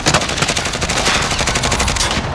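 Rapid gunfire from a shooter video game, dense automatic bursts filling the whole stretch with sharp repeated cracks, loud and close, with no talk over it.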